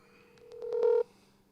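A telephone dials out for a call: a quick run of faint, evenly spaced keypad beeps leads into one longer held tone, close and quiet with nothing else over it.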